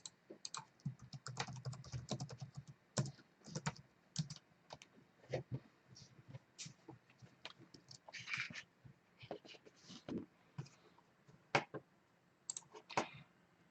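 Irregular bursts of typing on a computer keyboard, quick clicky keystrokes in clusters with short pauses, close and fairly clear, the operator of a live auction entering bids.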